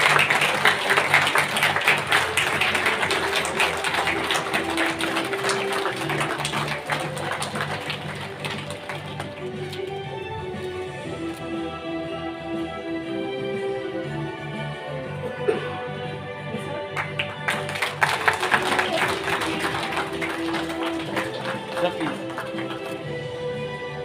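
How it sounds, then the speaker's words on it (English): Audience applause at a national metallurgist award ceremony hosted by the steel ministry, sustained clapping filling a hall, easing off briefly mid-way and then rising again toward the end. "Ladies and gentlemen, can I have a little more louder applause"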